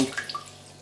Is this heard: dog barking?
no